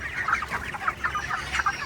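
Broiler chickens on a poultry farm, about 28 days old, cluck in short, busy, overlapping bursts close by, with no talking.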